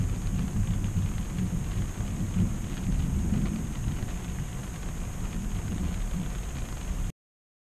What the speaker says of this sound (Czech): A to prší